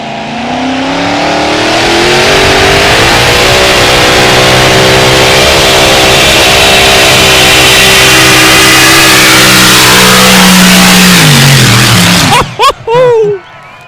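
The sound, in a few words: unlimited mini rod pulling tractor engine roaring during full pull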